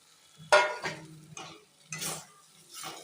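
Fried potatoes are stirred into cooked spice masala in a pan for a cabbage dalna. Quiet, intermittent scrapes and soft sizzling bursts come a few at a time over near silence.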